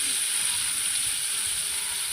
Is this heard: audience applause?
no